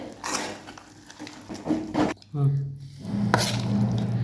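Finely chopped chickpea greens are stirred in a pot with a few uneven scraping strokes, close and fairly quiet, with a soft voice murmuring between them.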